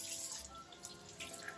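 Tap water runs steadily into a sink for peeling plantains, a brief, faint, continuous splashing stream.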